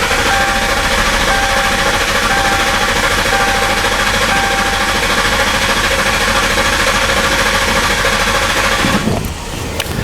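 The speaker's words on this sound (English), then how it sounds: "we're going to go ahead and crank the car over." A car engine cranks over continuously with the throttle held wide open, a loud, steady rapid starter churn filling the whole stretch before cutting off near the end.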